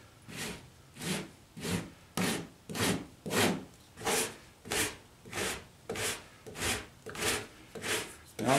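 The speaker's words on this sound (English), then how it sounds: "So what I'm going to do is I'm going to use this rasp planer." A rasp planer shaves down half-set Bondo body filler on an Atari Video Pinball cabinet, a steady series of about thirteen rhythmic scraping strokes, close and moderately loud.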